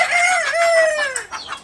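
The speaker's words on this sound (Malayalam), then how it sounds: "കുറച്ച് കോഴിയുടെ നല്ല ഒച്ചയുണ്ട്" Chickens in a yard, close and loud: a rooster's drawn-out crow followed by a few short clucks.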